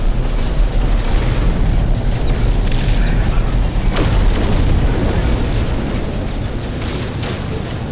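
A ship's photon cannon fires during a space battle in No Man's Sky, a loud dense barrage of booming blasts and bursts that roars continuously with sharper impacts scattered throughout.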